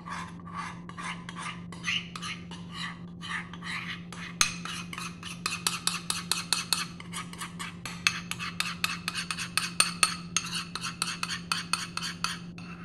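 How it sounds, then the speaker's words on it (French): A whisk beats eggs, sugar and melted dark chocolate in a bowl, rapid rhythmic scraping clicks against the sides that grow faster and more vigorous, close and clear with no talking. "Je mélange à nouveau donc les œufs, le sucre et le chocolat"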